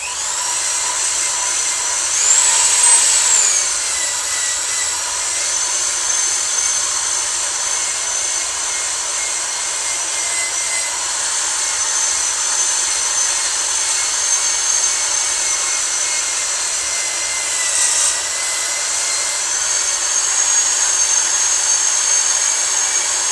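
An old drill grinds metal while porting WJ Jeep cylinder heads, a steady high-pitched whine that holds close and loud throughout, with brief pitch swoops as the tool loads and frees up.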